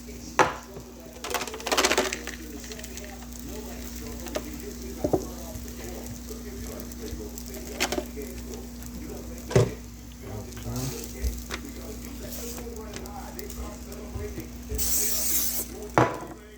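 Butter sizzles on a hot griddle while tacos cook, a crackling hiss punctuated by scattered clanks and scrapes of a utensil against the metal, with a steady hum underneath.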